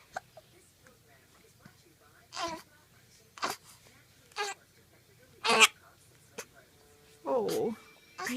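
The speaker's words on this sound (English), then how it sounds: "You have the hiccups." A baby hiccups repeatedly, short sharp bursts recurring every second or so, close by, with soft infant fussing and an adult voice in between.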